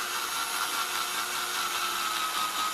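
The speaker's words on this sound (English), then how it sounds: "just very slowly drill this out" A drill bit slowly boring a hole through a circuit board, starting from the trace side with light pressure; a steady, even whirring grind holds at a constant close level without letup.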